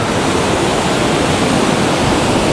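Mountain runoff water rushes down a valley in the Picos de Europa, a loud, steady roar of broadband white water that fills the scene without a break and with no voices.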